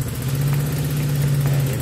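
Honda GL100 motorcycle engine running steadily at idle, a close, constant low hum with even pulsing and no talking.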